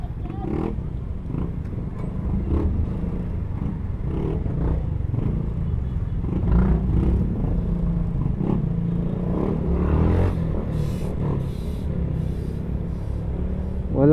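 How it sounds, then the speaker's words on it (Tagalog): Steady road traffic in Pasig with cars and motorcycles, a continuous low rumble of engines and occasional revving close by, with someone talking over it throughout. "Wala na talagang oras na hindi traffic ang Pasig."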